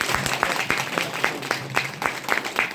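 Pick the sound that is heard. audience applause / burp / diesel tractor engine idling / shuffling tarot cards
audience applause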